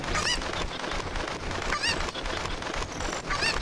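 A cucco chicken in a Legend of Zelda game, set in Kakariko Village, lets out repeated sharp squawking calls in regular bursts over a dense, busy game soundtrack.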